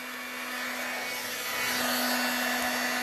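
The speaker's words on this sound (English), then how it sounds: "So I'm going to grab my heat gun. It's going to be a little bit noisy for a minute." A heat gun runs for embossing, giving off a steady, fairly loud blowing roar with a faint constant hum underneath that lasts the whole time and stands alone.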